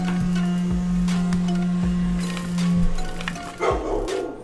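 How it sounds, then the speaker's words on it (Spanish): A dog barks repeatedly in the background of a home, short sharp barks at an uneven pace under a low steady hum, slightly distant and moderately loud. "Es un puto perro que no deja de ladrar"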